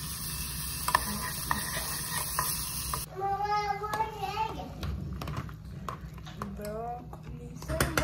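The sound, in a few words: garlic browning in a pan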